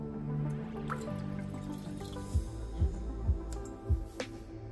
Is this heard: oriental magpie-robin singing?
no